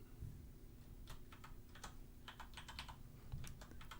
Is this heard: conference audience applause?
no